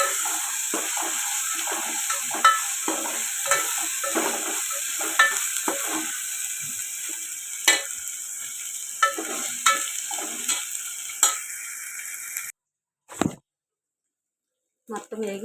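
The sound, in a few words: masala frying for tamarind tomato rasam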